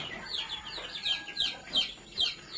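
Young two-month-old chickens, spotted and mixed breeds, call from inside a dim Kerala poultry farm shed, a run of thin, repeated high chirps and soft clucks at moderate distance with no voices.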